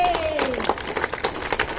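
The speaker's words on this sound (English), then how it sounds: "Clap it!" Schoolchildren at a primary school assembly clap together in a quick, uneven burst, with a voice calling over the sound and the group noise filling the hall.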